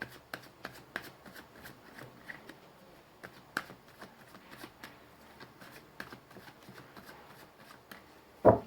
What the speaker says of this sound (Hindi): मैंने कर ली है कार्ड्स की शफलिंग